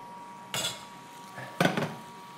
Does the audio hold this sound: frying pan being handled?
yes